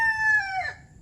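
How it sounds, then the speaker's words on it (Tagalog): A single close rooster crow, a harmonic cry that bends downward and fades within about a second. "Ayan ang manok namin oh."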